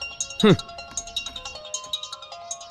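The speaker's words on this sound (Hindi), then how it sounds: "अबे कौन वीआईपी आदमी सुबह सुबह तुझे फोन कर रहा है बे?" Mobile phone ringtone for an incoming call in a film scene, a rhythmic chiming melody repeating quickly and close, with a short vocal sound near the start.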